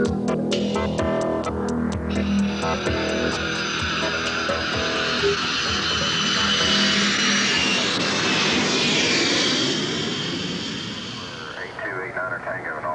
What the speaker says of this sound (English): NOAA research planes gather atmospheric data, support weather studies, and track hurricanes.